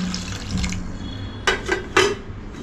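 Water is added to a pot for steaming modaks, heard as a close, splashy pour broken by a few quick clanks of metal vessels, with no one speaking.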